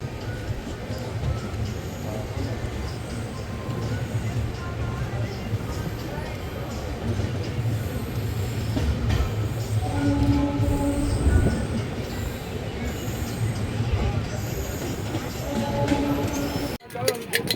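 The Lohit Express rumbles steadily at Rangia Junction, a continuous low rolling drone with faint squeals and rattles throughout, ending in a sharp clatter; a voice speaks over it at times.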